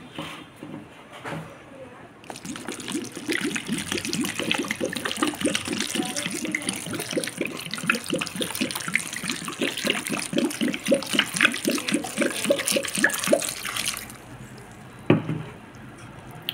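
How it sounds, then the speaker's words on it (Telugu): Water pours steadily into a cooking pot holding dried red chillies, garlic, onion, tamarind and turmeric for bottle gourd dal, a continuous splashing rush lasting about twelve seconds before stopping, with speech at a few moments. "వాటర్ యాడ్ చేద్దాం."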